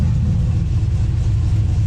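An LS-swapped 1974 Chevrolet C10 squarebody pickup runs with its single Hooker exhaust cutout, giving a loud, steady, close low rumble that holds evenly throughout with no talking.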